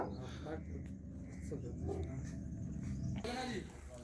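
Dogs on a farm whimper and pant while people talk nearby, the animal sounds faint and mixed under the conversation.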